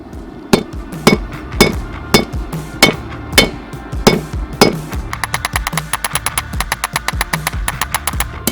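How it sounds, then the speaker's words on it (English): A blacksmith forging a trench knife from a bearing race with a hammer: loud, ringing blows on the anvil, first spaced about half a second apart, then breaking into a rapid run of lighter, quicker strikes. "my hammering is terrible"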